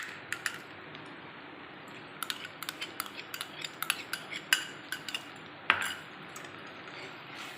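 Yogurt stirred into frying mutton in a metal pot, heard as a quiet background sizzle with a series of sharp spoon clinks and scrapes against the pot, and no talking.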